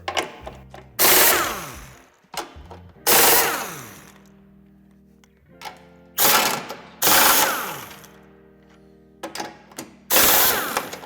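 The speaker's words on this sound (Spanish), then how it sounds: "Para desmontarlo tendremos que quitar las 4 tuercas que son de llave de vaso de 12" A 12 mm ratchet socket wrench removes nuts on a 2015-onward Suzuki Vitara during a tow hitch fitting, giving four loud bursts of rapid clicking, each several seconds long, with short pauses between them and no talk.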